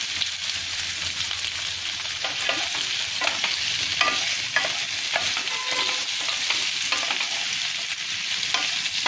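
Boiled potatoes are stirred in a hot pan for a spicy South Indian potato roast, a steady close sizzle of frying with scraping stir strokes scattered throughout and no voices.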